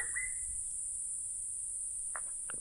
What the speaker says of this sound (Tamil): அங்கே இருக்க மைனாக்கள் சத்தம் தான் இது.